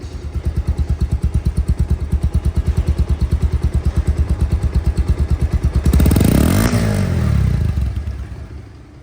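Bajaj Pulsar DD motorcycle engine, a secondhand bike, running steadily with a fast, regular near-field thump that swells into a louder rev around the sixth second before easing back.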